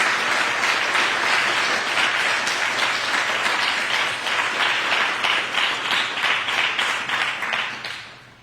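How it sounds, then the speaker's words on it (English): Round of applause from the audience at a 2024 District 10 candidate panel, a steady dense clapping from many people that holds for several seconds and then tapers off at the end. "I'd like to ask the audience to please give them both a big round of applause."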